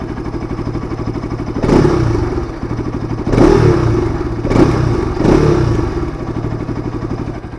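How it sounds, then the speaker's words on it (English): A Bajaj Pulsar RS200 motorcycle engine idles with a steady throbbing exhaust, rising in three short revving bursts before settling back to idle. "The startup sound of the RS200 is also unique along with the exhaust note."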